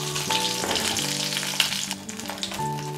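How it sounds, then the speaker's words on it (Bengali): Katla fish pieces fry in hot oil, a dense close crackling sizzle with sharp spits and pops, steady and loud throughout. "আমি এইভাবে বাকি মাছগুলোকেও ভেজে নেব। একটু কড়া করেই ভেজে নেবো।"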